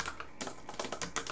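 Close, quick keystrokes on a computer keyboard as a file name is typed, a rapid irregular clatter of individual key presses lasting just over a second.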